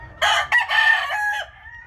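An Albany gamecock rooster crows once, loud and close, a harsh drawn-out call lasting over a second against quiet background.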